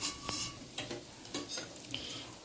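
Cabbage pakoras coated in ground-rice batter fry in a pan with a soft, bubbling sizzle, broken by several light clicks and scrapes of a utensil against the pan.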